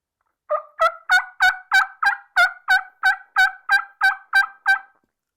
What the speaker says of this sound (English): another one of those darker tone turkey calls